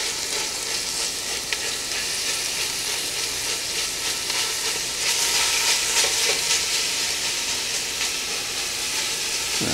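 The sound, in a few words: Italian sausage frying in a pan with onions and garlic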